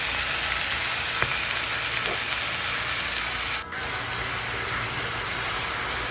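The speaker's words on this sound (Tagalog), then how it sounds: "Ayan, igigisa po natin siya sa patis." Chicken with garlic, onion and ginger sautés in fish sauce in a pan, a loud, steady, close hiss of sizzling that runs without a break, with faint stirring scrapes.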